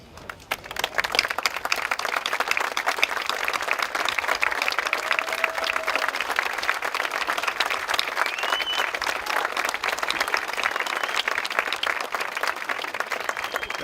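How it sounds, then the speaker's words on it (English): A commencement crowd at a high school graduation breaks into long, even applause for honors students and their parents, a thick, continuous roar of clapping that holds for about fourteen seconds. "for a round of applause"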